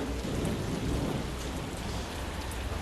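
Continuous rain hisses steadily with a low, rumbling thunder underneath, a constant stormy wash with no voices.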